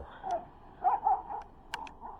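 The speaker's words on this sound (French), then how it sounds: "les chiens sont en train de se vénérer" Dogs bark and yip excitedly at a distance, making a few short, high calls and whimpering yelps over a quiet background, with no speech.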